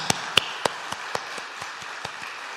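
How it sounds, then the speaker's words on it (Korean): A church congregation claps during a Sunday worship service: about ten evenly spaced, fairly faint claps that soften as they go, with no voices. "아까 박수하셨지만 한 번 더 하겠습니다."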